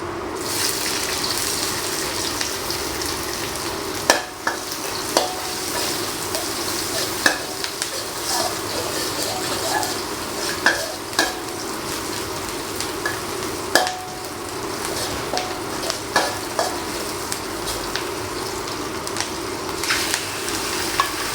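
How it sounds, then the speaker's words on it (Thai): Garlic and onion frying in a pan, a steady loud sizzle with intermittent scraping stir clicks of a utensil against the pan, close and continuous without speech. "เจียวกระเทียมให้เหลืองไปนะครับ ตามด้วยหอมหัวใหญ่"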